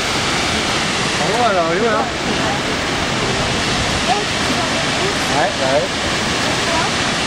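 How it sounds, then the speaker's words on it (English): Steady, loud roar of rushing water fills the whole clip, like a big waterfall up close, with a voice briefly speaking over it. "that was one big ass waterfall"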